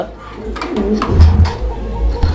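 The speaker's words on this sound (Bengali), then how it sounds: "দর্শক আমরা এই মুহূর্তে দেখতে পাচ্ছি এখানে আরো এক জোড়া কবুতর" Pigeons coo in low, soft, repeated throaty calls at close range, mixed with background noise and some indistinct voices.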